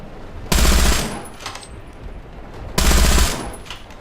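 Two loud bursts of heavy machine gun fire from a DShK in War Thunder, each a short rapid string of booming shots, separated by a brief pause with a mechanical clack between.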